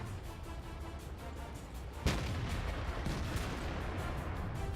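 Tank cannon fire in a competitive tank video game match, a sharp shot crashing in about midway through over a steady, dense din of battle noise with rumbling low end.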